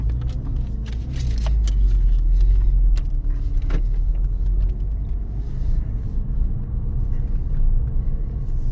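Porsche Boxster 986 with a freshly replaced IMS bearing on its first road test, heard from inside as a steady low road and engine rumble throughout, with faint small rattles and clicks and no talking.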